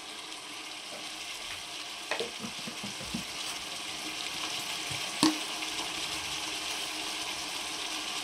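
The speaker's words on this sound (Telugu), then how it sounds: "ఇలా ముక్కలు తెల్లగా రానివ్వాలి నూనెలో వేగినప్పుడు" Fish pieces frying in oil in a pan, a steady soft sizzle throughout with a few sharper clinks and stirring knocks, no talking.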